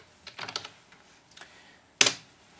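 Light keystrokes tap out a folder name on a computer keyboard in short clusters, close and quiet, ending with one louder, sharper key press.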